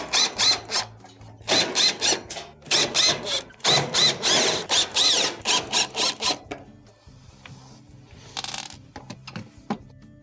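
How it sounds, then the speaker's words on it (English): Screws are backed out of the rear panel of a Samsung stove with a Phillips driver, heard as a close series of short, rhythmic mechanical bursts and ratcheting clatter with brief pauses between screws. "go around the perimeter and remove any of the number 2 Phillips screws that are holding it on"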